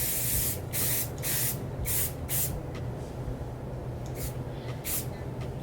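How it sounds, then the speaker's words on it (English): Several short bursts of hairspray from an aerosol can hiss at close range onto a human-hair ponytail in an irregular rhythm, some longer and some brief, over a low steady background hum. "I'm gonna spray a little hairspray on here."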